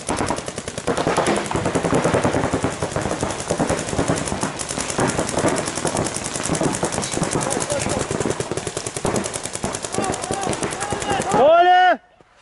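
Paintball markers firing during a paintball club training game: dense, rapid popping shots overlapping continuously for several seconds, ending with a brief rising whistle-like tone.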